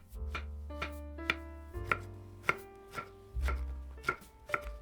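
A knife cutting carrots and zucchini into small sticks on a cutting board, with crisp, evenly spaced chops landing roughly every half second, close and clear, with no talking.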